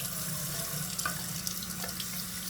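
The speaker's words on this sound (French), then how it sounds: "on met ça en dessous de l'eau" Tap water runs over a press-on nail held under the stream, a steady close hiss and splatter with small shifts as the hand moves, no voice over it.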